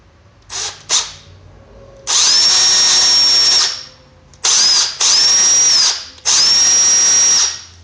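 An electric drill whines loudly in three sustained bursts while drilling through a blowgun dart, its pitch dipping as it bites, preceded by two short quick triggers.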